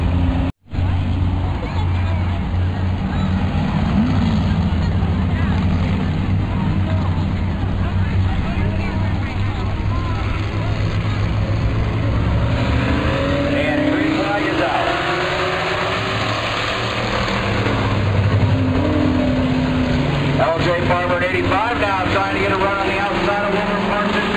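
Street stock race cars, including the 87 and 00, run down the main straightaway at Flat Rock Speedway, a steady loud engine roar throughout with a rising, nearer pass toward the end under commentary.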